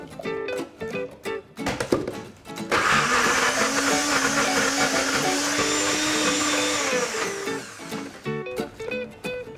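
A food processor pulses bird's eye chili, shallots, ginger and garlic into a rough paste, a loud whirring burst of several seconds set between shorter knocks and clatter of the machine.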